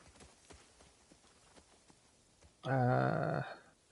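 Soft, regular horse hoofbeats from the video game The Last of Us Part 2 clop along at a steady walking rhythm, then a loud low grunting snort briefly covers them near the end.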